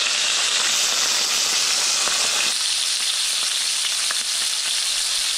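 Seasoned dogfish meat fries in a pan, a loud, close, steady hissing sizzle with faint crackles running unbroken and no voices over it.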